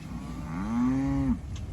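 Cattle lowing in a field on a 10-acre organic farm: a single drawn-out moo rising and holding steady for about a second before cutting off, fairly close and clear over light outdoor background noise.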